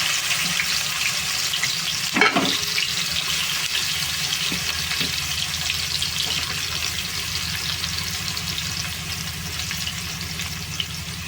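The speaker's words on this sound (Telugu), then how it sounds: "ఆయిల్ వేడైంది కదా, ఉల్లిపాయలు వేసుకుంటున్నా." Sliced onions dropped into hot oil in a pan, a continuous close sizzling hiss that holds steady throughout, with a brief clatter near the start.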